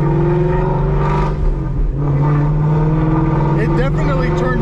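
A Mustang with Kooks headers and a Corsa Xtreme exhaust rumbling loudly with a deep, steady exhaust tone and a revving swell near the end.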